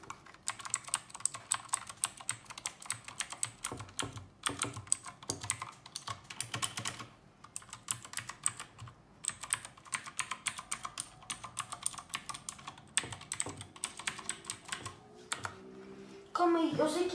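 Someone types on a Redragon Kumara K552 mechanical keyboard, producing a rapid, close run of crisp key clacks with short pauses, ending in a louder burst.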